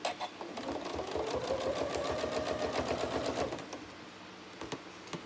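A sewing machine quilting a trapunto cushion runs in a fast, even stitching burst for about three and a half seconds, then stops, leaving a few light clicks and handling noises.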